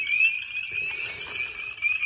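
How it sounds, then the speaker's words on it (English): A spring peeper frog calls in a wintry woodland pool, repeated high, thin peeps standing out clearly over quiet background. "Here's a spring peeper."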